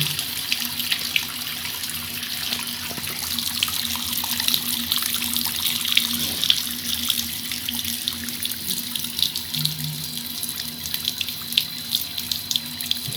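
Hot tap water, running red, pours steadily into a sink, a continuous splashing stream without talk.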